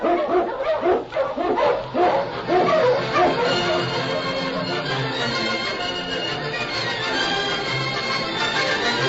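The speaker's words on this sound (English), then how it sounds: "King, the swiftest, strongest of Eskimo lead dogs, blazes the trail through storm and snow for Sergeant Preston" A pack of Eskimo sled dogs barks and yips excitedly in a radio drama sound effect, a dense continuous chorus of overlapping yelps at steady loudness throughout.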